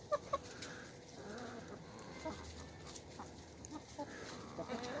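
Chickens clucking softly and scratching about close by as they eat roaches, with scattered pecking sounds and a busy farmyard murmur around them.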